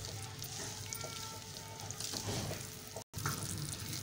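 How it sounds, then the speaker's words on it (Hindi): Millet flour being stirred and roasted in a pan over medium-low heat, a soft, faint crackle with light scraping of a spoon, steady throughout with one brief cut of silence. "अब हम इसे अच्छी तरह मिक्स करेंगे और इसकी अच्छी तरीके से भुनाई करनी है।"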